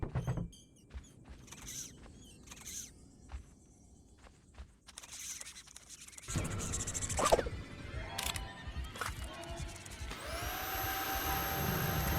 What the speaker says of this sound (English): I can't vacuum those up.